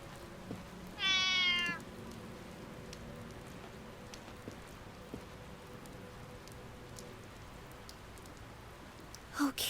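A cat in the video game Re:Turn 2: Runaway gives a single short meow near the start over steady rain on a surface, with the rain continuing alone afterward.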